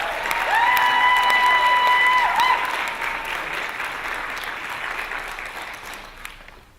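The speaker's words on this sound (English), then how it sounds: "Let's give them a round of applause." A crowd at a petition rally applauds steadily, a dense wash of clapping that swells early and gradually fades, with a brief whistle-like tone near the start.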